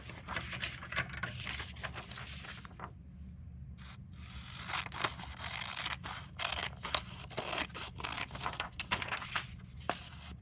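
Scissors cut out a paper reading-log page for an interactive notebook, making repeated close snips and crisp paper rustles with short pauses, faint and alone.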